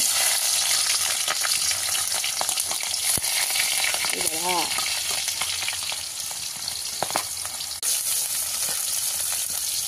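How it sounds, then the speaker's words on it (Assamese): Onion frying in hot mustard oil in a pan, a loud continuous sizzle and crackle throughout, with occasional stirring scrapes and no talking. "মিঠাতেল তো গাইছ তেলটা গৰম হোৱাৰ পিছত চবেই জানে পিঁয়াজটা দিব"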